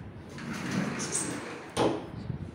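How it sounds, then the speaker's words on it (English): Sliding door in a bedroom of a small apartment, rolling along its track with a soft scraping glide and a brief louder knock as it reaches the end, fairly quiet and close. "the door is sliding"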